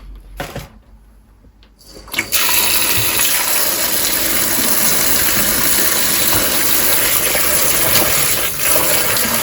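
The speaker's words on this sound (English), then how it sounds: "So I'm just going to wash them under running water." A tap runs steadily over cranberries being rinsed, with a loud, constant gushing splash after a brief quieter start, with no voices.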